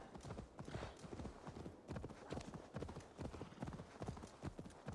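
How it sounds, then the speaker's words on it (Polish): Horse hooves clip-clop steadily in Assassin's Creed Valhalla, a brisk, even rhythm of many close, loud strikes that runs throughout, with a faint whinny-like touch and slight background noise. "Kochane konie."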